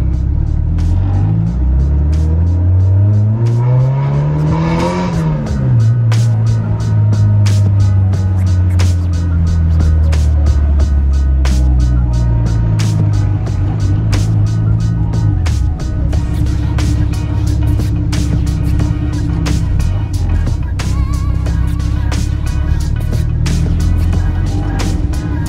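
An EG hatchback race car with a stiff clutch is driven off, its engine droning loudly up through the revs, easing back as gears change, then settling into a steady rumbling cruise heard from inside the car.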